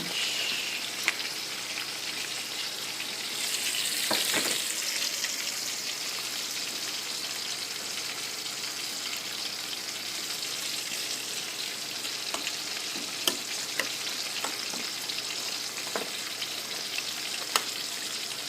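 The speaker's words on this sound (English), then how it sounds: "I'm adding in my cabbage." Shredded cabbage sizzles and fries steadily in a hot pan, a continuous crackling hiss with occasional sharper pops and brief scraping stirs, close and alone without talk.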